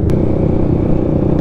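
Honda Grom mini motorcycle engine pulling hard, a steady loud close-up rumble with continuous low drone throughout, no one speaking.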